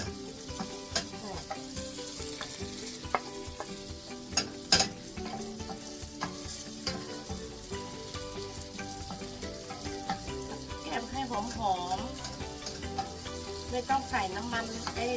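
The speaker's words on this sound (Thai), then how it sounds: "ผัดพริกแกงซีฟู้ดจ้า แซ่บๆวันนี้" Seafood stir-fried with chili curry paste in a hot pan, for a spicy dish of squid and shrimp, sizzles steadily up close while a utensil scrapes and stirs in busy, irregular bursts throughout.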